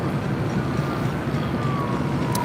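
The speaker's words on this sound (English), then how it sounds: "Oh yeah, hearing the sirens" Emergency vehicle sirens wail faintly and far off at LAX airport during an aircraft emergency landing, thin rising and falling tones over a steady ambient rumble.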